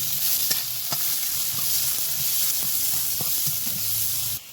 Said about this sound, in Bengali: এই থানকুনি পাতাতে তেল কম দিব আর কাঁচা গোটা লঙ্কা এই দেখো গোটা লঙ্কা দিয়ে দিয়েছি